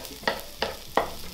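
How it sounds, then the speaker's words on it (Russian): Sliced onions sizzle in a hot pan while a utensil scrapes through them three times at an even rhythm, close and clear. "Обжариваем до мягкости. Раздвигаем в стороны."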